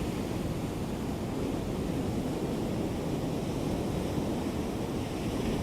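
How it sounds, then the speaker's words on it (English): Ocean waves rolling onto a shore, heard as a steady, loud wash of surf noise with wind mixed in, continuous and with no clear breaks between waves. "I hope y'all hear the ocean water."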